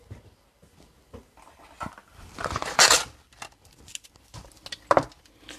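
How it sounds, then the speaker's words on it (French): Scissors snip the ends of a ribbon diagonally for a Stampin' Up birthday card. A few sharp, crisp cuts land close by among faint paper rustling, with no talking. "Je vais recouper simplement les petites pointes. Alors, en diagonale pour éviter qu'il s'effiloche."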